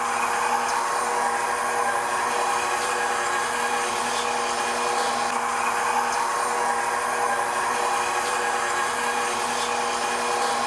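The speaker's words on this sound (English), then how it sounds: "we're going to run the meat through here one time and see what that looks like" A meat grinder attachment runs steadily as meat for livermush is fed through it, giving a loud, constant motor whine and grinding drone that holds unchanged from start to finish with no voices.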